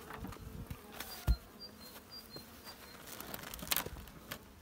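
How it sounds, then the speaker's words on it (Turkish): Honey bees buzz over brood comb at a hive, a close busy hum with scattered taps and knocks from handling the frame. "yavru üstünde çalışan arılar"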